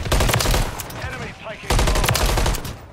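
Rapid automatic gunfire in the Call of Duty video game, loud and close, in dense bursts with a short lull in the middle before a second heavy volley.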